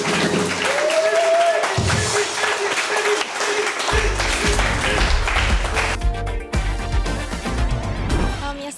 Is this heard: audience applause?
yes